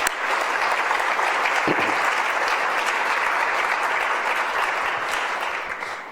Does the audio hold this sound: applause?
yes